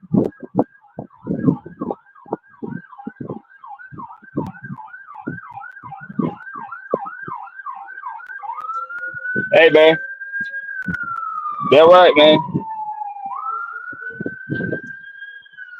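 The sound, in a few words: sirens passing on the street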